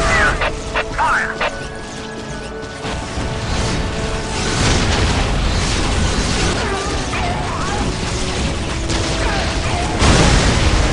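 A Leman Russ tank in Dawn of War battling, with heavy booming impacts and clanking mechanical noise amid constant battle clatter, loud and close, while voices speak over it.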